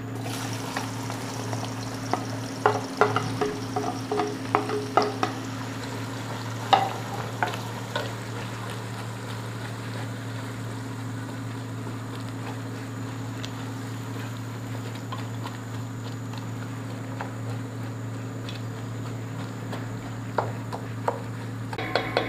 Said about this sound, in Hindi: पहले प्याज को पकाते हैं।